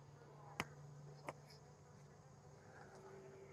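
Honeybees humming low and steady around a hive fitted with feeders, a soft continuous buzz with two sharp clicks near the start.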